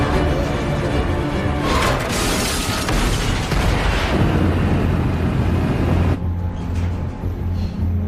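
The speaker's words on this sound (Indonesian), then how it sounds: "Setelah mereka menabraknya, beberapa mobil pun meledak" Several cars blow up on landmines in a Jackie Chan action film, producing loud, rumbling, overlapping blasts and roaring debris noise that fill the scene before it cuts to a quieter, hissing wind.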